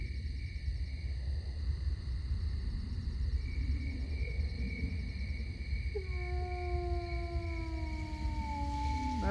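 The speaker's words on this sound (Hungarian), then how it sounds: "Ne vonyítsatok már!" Drawn-out howls of dogs or mutants in the game Stalker: Call of Pripyat, several overlapping wavering wails rising in the second half over a steady, droning game ambience.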